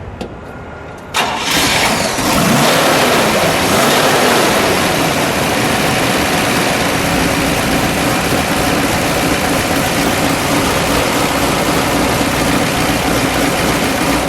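A green 1970 Chevrolet Yenko Deuce Nova with a 350 LT-1 V8 cranks briefly and fires up, then settles into a loud, steady, rumbling idle close to the microphone that runs unbroken for many seconds.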